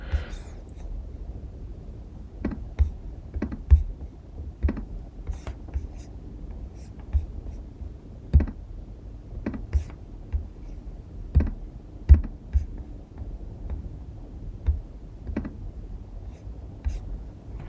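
Typing on a computer keyboard, soft irregular key clicks and taps scattered through a quiet room, close and fairly faint, with no voices.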